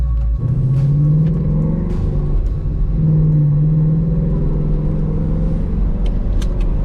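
Ford Mustang GT cruising with a lightweight clutch assist spring fitted, a steady low engine drone heard from inside the car, with a slight rise in pitch and no talking.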